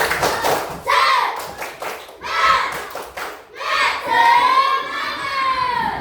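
Schoolchildren in a classroom do a rhythmic spirit clap, bursts of quick patterned hand claps alternating with their loud chanting voices, repeated in several rounds.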